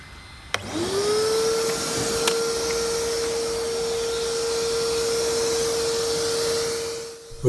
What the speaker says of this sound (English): we need to clean the dust from it with a hoover